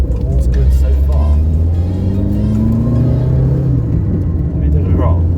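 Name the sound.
Fiat Cinquecento Trofeo car driving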